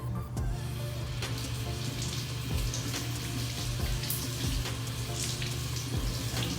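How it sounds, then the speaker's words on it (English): A chalk art stencil is rinsed under a running tap, giving a steady, close rush and splatter of water into a sink with small spattering bursts. "I'm just gonna rinse it."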